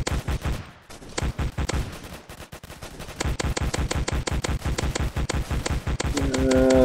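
A ray gun in the Roblox Zombie Attack game fires rapid repeated shots in steady bursts, loud and close, with a brief pause midway and a rising electronic tone at the end.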